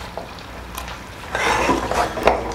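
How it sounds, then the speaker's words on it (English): An onion sautés in fat in a pot for a barbecue sauce, with soft sizzling and a few spoon scrapes against the pot, close and moderately loud. "Just get the onion in there. That fat is going to help us saute it."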